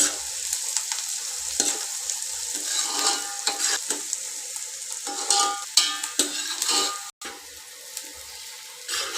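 Sliced onions for egg curry sizzle steadily in a hot pan, close and continuous, with scraping stirs and brief clanks over the frying hiss.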